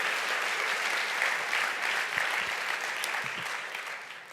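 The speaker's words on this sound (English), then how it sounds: "Another round of applause." Audience applause for Mike Bloomberg at a C40 cities gathering, a full steady roar of many hands clapping that holds for several seconds and eases slightly near the end.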